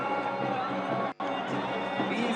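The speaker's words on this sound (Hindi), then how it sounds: "ताली के साथ हमारे छत्तीसगढ़ के दंतेवाड़ा से आए हुए राम भक्त मन के स्वागत।" A crowd at the Rashtriya Ramayan Mahotsav in Raigarh applauds to welcome the Ram devotee troupe from Dantewada, Chhattisgarh. The clapping and crowd noise are steady and dense, with a brief dropout midway.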